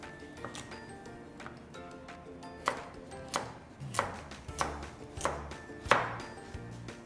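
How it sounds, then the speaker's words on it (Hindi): A knife chops carrots and other vegetables into small pieces on a cutting board, sharp close thuds coming in a loose rhythm that grows more regular and louder partway through, with light clatter between strokes. "ये देखिए गाजर भी कट गई"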